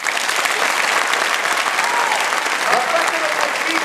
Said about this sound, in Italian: Ti chiedo di fare un forte applauso a te stesso.